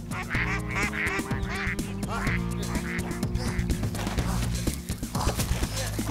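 Ducks quack repeatedly in a dense, loud and steady chorus, with calls overlapping throughout over a constant low hum.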